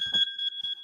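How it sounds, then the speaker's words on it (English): A beeping alarm rings with two steady high electronic tones that hold through the whole second, with faint low rustling underneath and no voices. "sorry about that, had my alarm going"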